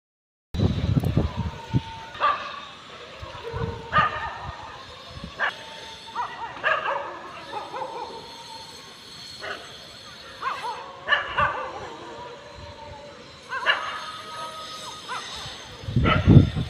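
Several dogs bark repeatedly in short bursts with yips and whimpers, fairly close, over a faint steady background hum.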